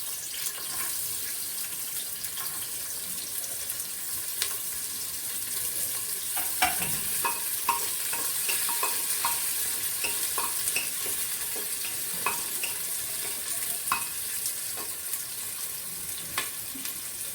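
Onions frying in Nandini-brand ghee from a Karnataka dairy, a steady close sizzle with scattered crackles and spatters over about seventeen seconds, plus occasional stirring clinks, with no talking.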